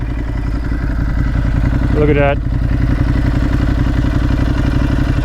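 A Ducati Hypermotard 950 SP engine with a full Termignoni exhaust system idles with a deep, throaty pulsing rumble, close and loud, as a voice speaks briefly midway.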